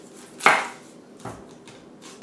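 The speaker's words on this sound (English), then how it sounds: "So I'm just going to chop that up." A knife chops onions on a kitchen board: one sharp, loud chop near the start, followed by a few fainter cuts spread out over the next two seconds, with no talking.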